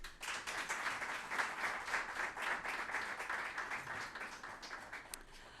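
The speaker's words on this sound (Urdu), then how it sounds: "امجد ملک صاحب کے لیے بہت سی تالیاں ہونی چاہیے" An audience applauds for a barrister and chairman at a televised Q&A event, a steady wash of many hands clapping, faint and somewhat distant, holding evenly for several seconds with no one speaking.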